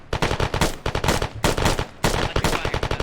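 Rapid automatic gunfire in ArmA, loud and close, with dense bursts of shots interrupted by brief pauses.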